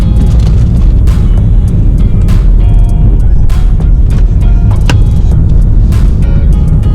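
A 2017 BMW 335d xDrive drives along the road, a loud, steady rumble of engine and road noise heard from inside, with continuous low drone and occasional rattles.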